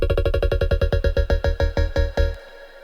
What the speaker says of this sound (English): It is literally just a triangle wave with a phaser filter on it.